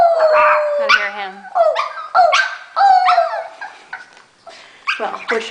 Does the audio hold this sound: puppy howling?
yes